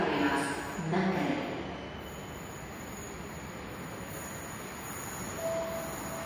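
A Nagpur Metro train runs along the track with a steady rumbling roar and faint wheel squeal, heard from inside the car, louder at first then settling into an even hum, with a brief tonal beep near the end.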